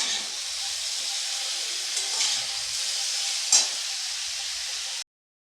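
Bay leaf dropped into hot oil for a chalta pickle, giving a steady close hiss and sizzle that runs evenly for about five seconds with a brief louder crackle near the end, then cuts off.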